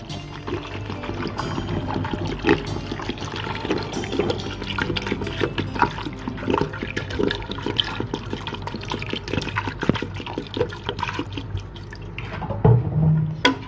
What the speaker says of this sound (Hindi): 1 लीटर इसमें पानी जाएगा।